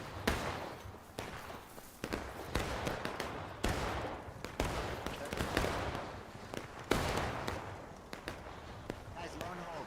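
Musket gunfire in the War of Rights video game, irregular sharp reports spread across the stretch, some close and loud, others farther off, with people talking over the shooting.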